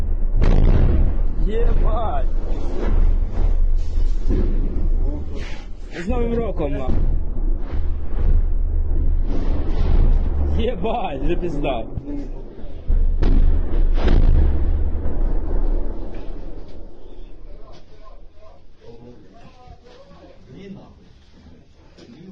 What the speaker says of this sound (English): you can hear the shelling going on outside